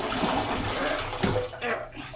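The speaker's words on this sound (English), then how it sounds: "there's only water coming out right here, right on the edge" Water runs steadily into a bathtub with a bath bomb fizzing, a close, continuous splashing wash with small drips and gurgles throughout.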